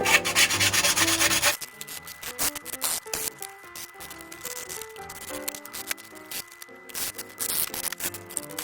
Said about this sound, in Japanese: 紙やすりを使ってきれいに仕上げていきましょう